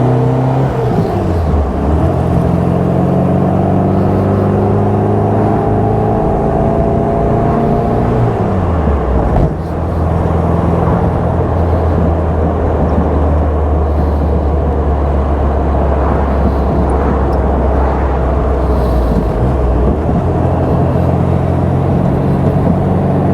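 A 1958 Austin-Healey Bugeye Sprite with its 948 engine drives along, its exhaust note loud and close as it revs up through the gears, drops on shifts and pulls steadily again, with no voices.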